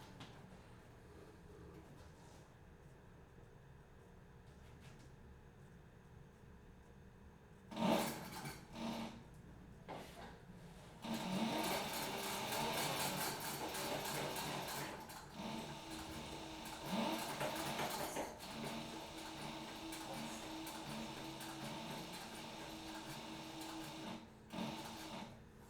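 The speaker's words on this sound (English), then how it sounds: "Now I'm going to go around and actually sew them in" A sewing machine stitches backpack straps onto a children's-size backpack, running in bursts with pauses between, its motor whirring steadily at moderate volume with brief stops and restarts.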